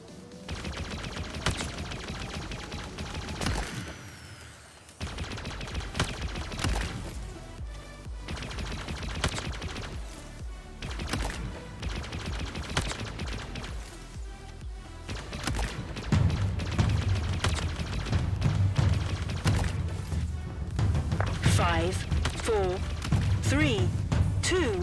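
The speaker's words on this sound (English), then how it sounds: "Plasma pistol obtained." Rapid plasma pistol fire in Halo Infinite, dense repeated bursts of shots throughout with a brief pause near the start, under a voice speaking at times.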